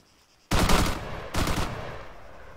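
Gunfire in the ArmA 3 video game arrives as two loud, sharp bursts of automatic fire, the first longer and the second shorter, after a near-silent start, then fading into a faint tail.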